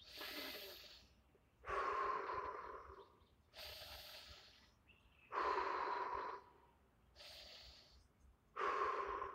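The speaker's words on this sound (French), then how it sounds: "rien que prendre 3 respirations comme ça nous ramène dans notre corps" A person takes three slow, deep breaths, each a loud, close inhale followed by a hissing exhale, in a quiet room with no talk between them.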